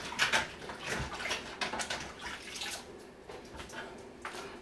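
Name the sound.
washing hands under running tap water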